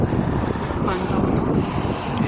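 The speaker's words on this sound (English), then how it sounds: "It is biting cold out here. So windy." Heavy, cold wind buffets the microphone outdoors near Toledo in a loud, unbroken low rumble throughout the short stretch, with no talking.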